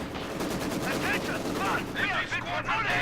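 MG42 machine-gun bursts from the strategy game Company of Heroes 2 rattle through a dense battle mix of distant gunfire and explosions, with a commentator talking over the action.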